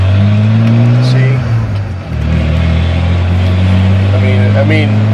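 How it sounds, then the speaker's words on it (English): A 1991 Ford F-150 with the 4.9 engine, which has a misfire, runs loud and close under throttle, giving a steady droning hum that briefly dips and stumbles before recovering. "if I give it more throttle, it doesn't like buck and misfire"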